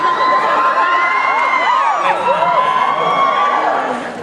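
A concert audience cheers and screams, with shrill wavering shrieks rising and falling over a loud, dense crowd roar that fills the whole stretch.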